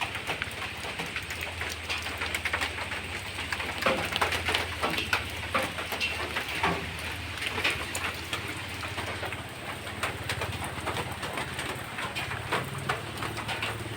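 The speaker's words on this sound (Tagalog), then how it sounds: "Ito nga po't malakas po ang ulan dito sa aming lugar." Heavy rain pours down steadily in a dense, continuous hiss, with occasional bird calls heard faintly over the downpour.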